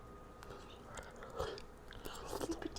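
Someone chewing a freshly cooked pork chop, quiet close bites and moist mastication sounds with a few louder crunchy chews, otherwise near silence.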